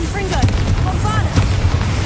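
Confringo and Bombarda spell blasts boom in Hogwarts Legacy, heavy low thuds and bursts repeating quickly, with a voice partly audible among the blasts.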